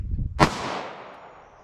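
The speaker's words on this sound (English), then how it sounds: "first up we have our 9mm 100 grain hollow point rated at 13-12 feet per second" A single sharp 9mm shot from a short-barrel gun firing a 100 grain hollow point round through a chronograph at close range, with a loud crack and a lingering echo tail outdoors.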